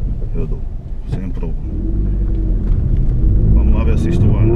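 A car engine runs with a deep rumble that grows steadier and louder, while people talk nearby over it.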